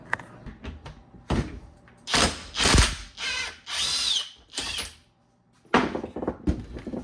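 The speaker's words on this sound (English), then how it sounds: "First of all, let's remove the nut from here" A nut being removed from the differential flange of a Triumph TR6, with bursts of power-tool whirring and ratcheting metallic clicks in several short runs separated by pauses, close and fairly loud.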